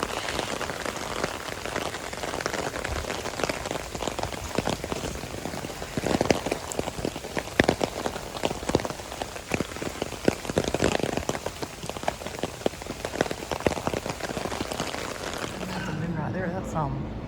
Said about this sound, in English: of course it's pouring down rain